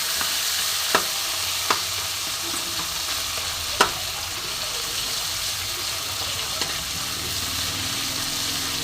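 Steady, loud sizzling of a fish head frying in hot oil, with a few sharp clinks of a utensil scraping the pan.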